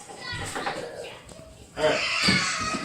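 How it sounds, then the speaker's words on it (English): A lively child squeals and chatters while being put to bed, heard from a nearby room with uneven bursts and a louder stretch near the end. An adult voice speaks briefly. "We've got a crazy kid trying to go to bed."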